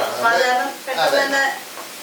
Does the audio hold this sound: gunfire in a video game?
no